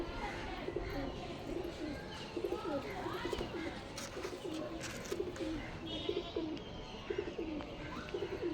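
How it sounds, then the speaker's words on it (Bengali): Domestic pigeons from a backyard loft cooing again and again in a soft, rhythmic, throaty pattern at moderate distance, the repeated calls running steadily over faint background noise. "পাশে যেন কার বাড়ির একটা পায়রা উড়ছে"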